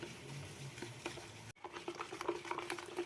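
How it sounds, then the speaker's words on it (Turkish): Eggs and sugar whisked together in a bowl, a soft, quick patter of scraping strokes at close range that breaks off briefly midway and then resumes in an irregular rhythm. "Şimdi bir su bardağı şekerimi ilave ediyorum. Ve iyice çırpıyorum."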